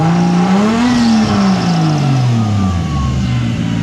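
A warmed-up 2006 Chrysler 300 engine revs up and then winds down, loud and close, with a whining tone from a noisy compressor bearing riding over the engine note.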